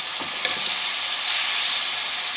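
Yogurt masala fries in a pan for a radish and spinach dish, giving a close, steady hissing sizzle with a couple of faint stirring touches and no speech.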